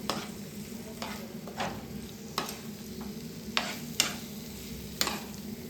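Mushroom masala being stirred in a pan over a medium-high flame: a steady close sizzle with scraping stirs recurring roughly every second, no talking.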